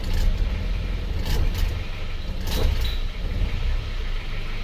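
A car engine being revved up as the throttle is raised during a repair check, a loud continuous rumbling drone that swells in waves, with no talking.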